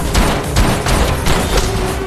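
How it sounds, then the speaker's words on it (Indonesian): Masked men shooting everyone inside after throwing smoke bombs in a film scene, a loud continuous barrage of gunfire with thumping impacts, dense and overlapping throughout. "dua orang yang memakai topeng tiba-tiba melemparkan bom asap dan menembaki semua orang yang ada di dalam"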